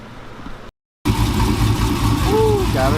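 A V8 engine in a truck turns over after a brief silence and settles into a loud, steady, choppy idle.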